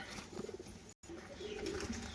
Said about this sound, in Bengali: এটা মেল পায়রাটা